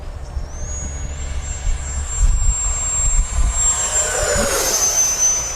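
An FMS Viper 70mm EDF RC jet flying at about two-thirds throttle, a loud, steady high-pitched ducted-fan whine with rushing air that shifts pitch as it passes.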